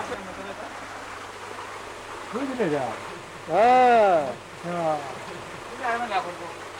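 Released water flows through a gharat, a traditional water mill, as a steady rushing wash in the background. Voices talk and call out over it throughout.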